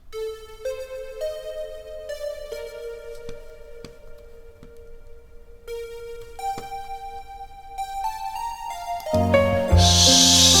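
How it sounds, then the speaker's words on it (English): Synth lead patch from Native Instruments Massive, voiced like a guitar, plays a sustained melodic line with held notes and gliding pitch changes over keyboard chords, swelling into a louder, brighter wash at the end. "I picked a synthesizer from the Massive synth, also by Native Instruments, that sounds kind of like this."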